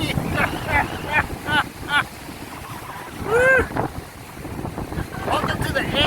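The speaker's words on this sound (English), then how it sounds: "Oh, it's so windy!" Strong wind buffeting the microphone at the Gris Gris coastal viewpoint in Souillac, Mauritius, a steady roar with surf beneath and a voice briefly heard.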